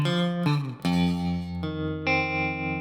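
A short fingerpicked electric guitar fill from Norah Jones' "Turn Me On", played thumb-style: a handful of clear, sustained picked notes and slides ringing out close and clean, with no voice over them.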